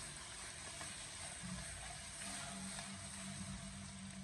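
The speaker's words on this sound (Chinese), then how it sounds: "再用锅铲进行翻炒一下，把它翻炒均匀，将小料全部的翻炒出香味" Chicken pieces stir-fried with chopped aromatics in a pan after browning, giving a steady, moderate sizzle that runs continuously, with faint scrapes of a spatula mixed in.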